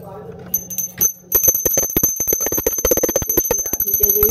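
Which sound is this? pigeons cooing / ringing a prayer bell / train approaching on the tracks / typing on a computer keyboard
ringing a prayer bell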